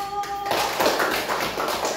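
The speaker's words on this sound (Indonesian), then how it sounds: "Ayo tepuk tangan untuk kelompok 1" A classroom claps for a student group after its presentation. After a brief lead-in, a dense burst of many hands clapping breaks out and stays steady and close.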